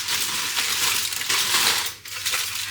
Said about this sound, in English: let's open this foil